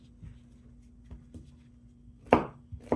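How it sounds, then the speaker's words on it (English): A knife chops pineapple into small pieces on a cutting board, a few soft, close taps building to two sharper, louder cuts. "So cutting it in small pieces in preparation for placing it and processing it in the immersion blender"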